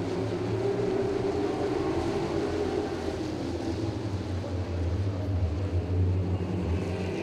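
Dirt modified race car engine roaring steadily at full throttle on an oval track, a loud continuous drone with deep low rumble that holds unbroken from start to finish.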